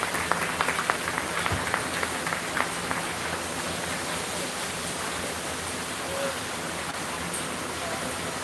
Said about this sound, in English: Let's go ahead and give all four of those pretty good exhibitors a big round of applause.